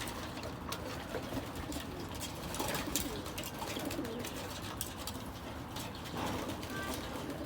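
Pigeons coo softly and repeatedly amid a steady outdoor background, with faint bird calls scattered throughout and no clear talking.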